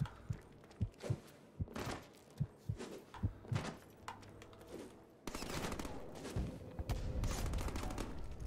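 Gunfire aimed at the player in the Deadpool video game: rapid bursts of sharp shots crack out one after another, then give way to a denser, continuous wash of battle noise.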